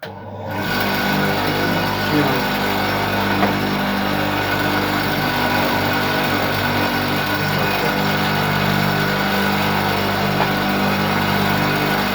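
A small bench machine switches on and runs steadily, a constant motor whine and hum that starts abruptly and holds at an even level throughout.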